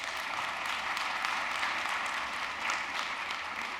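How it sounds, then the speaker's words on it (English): Audience at an honors college induction ceremony applauds in a steady, even wash of many hands clapping, heard at a distance and fairly faint throughout. "And let's give them a round of applause"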